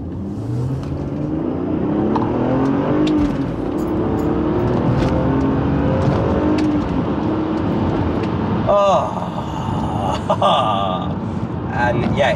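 A BMW straight-six car engine accelerates, producing a loud, steady rising drone under continuous close talking, then a brief higher-pitched surge of revs near the end.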